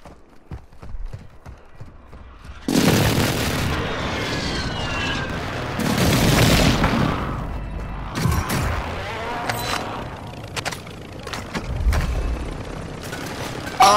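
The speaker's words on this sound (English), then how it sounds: "Friendly airstrike on the way." Airstrike explosions in Call of Duty Warzone Resurgence arrive as a long sustained rumbling roar of blasts, with several heavy booms and rolling bursts following, loud and continuous after a quieter start.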